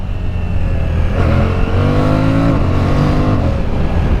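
BMW M1000RR sport motorcycle engine revving up through rising harmonic sweeps, loud and close, with a steady throaty drone underneath and no talk.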